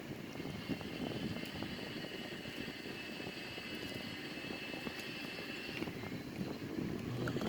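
A Sukhoi Su-30 fighter jet roars through a Cobra maneuver, a steady, broad engine rumble with a faint whining tone over it, heard as continuous noise with no speech.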